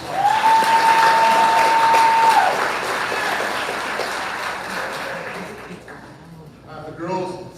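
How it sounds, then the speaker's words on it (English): Applause from the crowd at a high school spring sports banquet, a broad wash of clapping that fades gradually, with a sustained feedback-like tone early on and voices emerging near the end. "So let's give him a round of applause."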